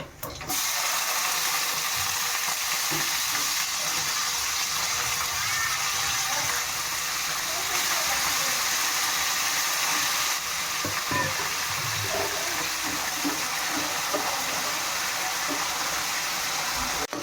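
Chopped fresh white brinjal from the home garden frying in a pan for vangi bath, a steady broadband sizzle running throughout at close range, with occasional stirring clinks and faint background talk.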